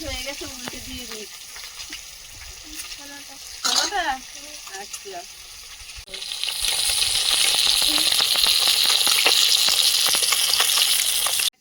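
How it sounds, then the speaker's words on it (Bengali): Fish frying in a pan: speech and clatter first, then a loud, steady sizzle of hot oil rises and carries on for several seconds. "মাছগুলো ভাজা হয়েছে তুলে নেবো"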